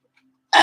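A loud, short burp bursts out near the end after near silence, harsh and close, lasting about a fifth of a second.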